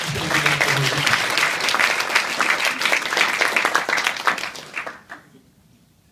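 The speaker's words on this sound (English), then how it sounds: "But let's give them a big round of applause, please." Applause from an audience at a Buffalo Startup Week event at UB, a dense wash of clapping that holds steady for about five seconds, then fades quickly to near silence.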